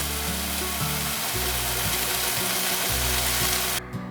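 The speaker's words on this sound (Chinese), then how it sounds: "快速的翻炒，所有食材都熟透了，就可以关火起锅" Taro and celery stir-fried in a pan, a continuous loud sizzle with the repeated scrape and clatter of a spatula tossing the vegetables, ending abruptly as the heat is cut.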